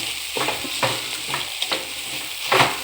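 Gojju avalakki stirred in a pan over a low flame, with a continuous sizzle broken by regular scraping strokes of a spoon roughly every half second, close and clear without any voices.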